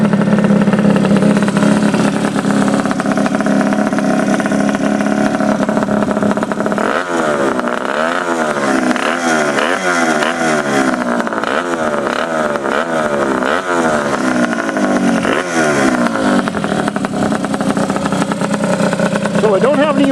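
A Honda Dio scooter fitted with a race pipe runs loud and close, its raspy two-stroke engine holding steady before a series of sharp revs rises and falls in rapid repeated bursts, then settles back to a busy idle.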